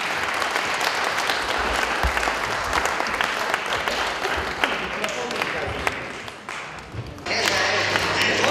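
Sustained applause from an audience at a disability day event in Krynica-Zdrój after a tango song performance, steady and fairly loud, with faint voices mixed underneath.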